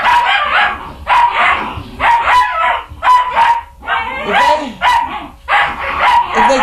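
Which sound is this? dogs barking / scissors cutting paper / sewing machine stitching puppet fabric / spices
dogs barking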